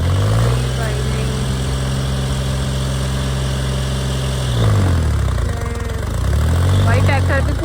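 Tractor engine labouring while pulling a stuck Suzuki Jimny, a heavy low rumble that swells and dips as the revs rise and fall, loud and close with voices shouting over it.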